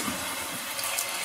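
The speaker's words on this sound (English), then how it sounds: "Your water filling." Water rushes steadily into a toilet tank through a float-style fill valve, a continuous close hiss and gurgle with no break over the brief moment.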